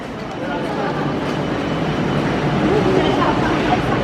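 A Chongqing subway train pulls into the station with a steady, broad rumble that swells slightly and holds. Voices talk over it throughout.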